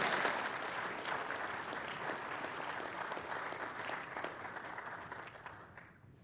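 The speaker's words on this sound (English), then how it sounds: "A little round of applause as she comes up." Steady applause fills the chamber at a city council meeting, a moderate crowd clapping continuously for several seconds before tapering off at the end.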